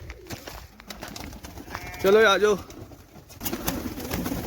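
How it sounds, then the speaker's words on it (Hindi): Pigeons coo in a pen in a backyard with chickens, short throaty warbles that rise briefly above a busy outdoor background. A person speaks nearby. "ये देखिए ये हमारे कबूतर हैं।"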